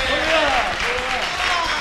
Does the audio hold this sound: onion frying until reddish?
no